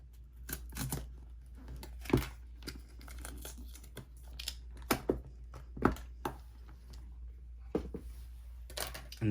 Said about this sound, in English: Let's go ahead and cut this actually.